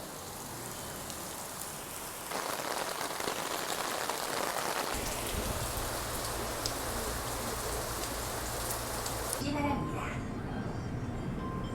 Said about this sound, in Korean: 아니 왜 요즘 맨날 비가 옵니까?